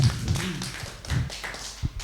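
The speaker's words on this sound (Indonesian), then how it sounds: "tepuk tangan Bapak Ibu" Scattered hands clapping from a seminar audience on using digital media for teaching, a short uneven patter of taps with low rumbling room noise underneath.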